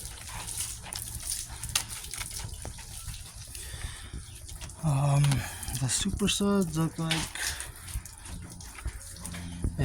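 Water from a tap runs into a bucket mixed with Chemical Guys Mr. Pink car wash soap, a steady hissing pour under a person talking, with a dog barking and whining nearby.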